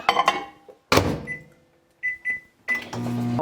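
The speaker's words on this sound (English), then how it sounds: "So I'll just throw this in the microwave for a minute." A microwave oven door clunks shut, then a few short beeps follow before the microwave's steady low hum starts running.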